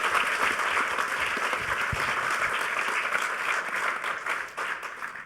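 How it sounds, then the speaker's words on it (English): A hacker conference crowd applauds a panel with full, continuous clapping that holds steady and then eases slightly near the end. "Give a big round of applause to the panelists."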